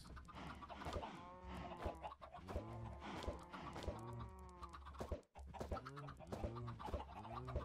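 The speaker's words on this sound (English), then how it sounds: "Come on, baby chickens." Baby chickens in the video game Minecraft, version 1.14 survival play with shaders, cluck in a steady run of short repeated calls that carry on for several seconds at moderate loudness, with no talking over them.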